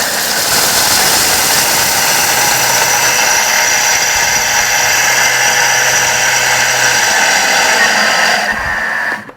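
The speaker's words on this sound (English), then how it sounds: "as soon as I start to turn the Thermomix on, then the scales will switch off" Thermomix TM5 blender milling superfood energiser ingredients at speed 10: a loud, steady high-pitched motor whir with a grinding hiss, holding constant for several seconds before cutting off abruptly.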